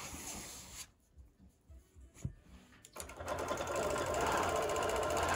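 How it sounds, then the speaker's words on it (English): A sewing machine stitches during free-motion quilting on a nine-patch birdhouse quilt, starting with a short run, pausing briefly with small handling noises, then settling into a steady fast hum close by. "And then I'm just free motion quilting"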